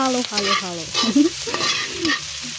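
Onion and garlic sizzle in a hot pan while a spoon stirs them, with crisp frying hiss and scraping strokes close up.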